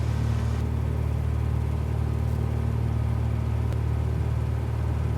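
A Cessna 172 engine roars at full power during the takeoff roll, a steady loud droning hum heard from inside the cabin, with no speech.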